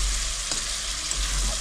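Katla fish curry in Bengali style sizzles in oil in a pan as the water cooks off, a steady soft frying hiss with no talk.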